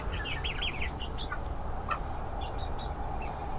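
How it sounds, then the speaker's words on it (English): Chickens in a coop on a 19-degree night cluck and chirp in quick warbling bursts, fairly close, over a steady loud background hiss, with no speech. "So let's go check on the chickens."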